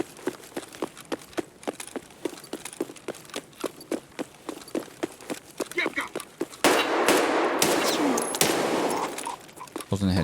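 Gunfire in a first-person shooter video game, a long run of evenly spaced single shots followed by a dense, louder burst of rapid fire, with a player talking over parts of it.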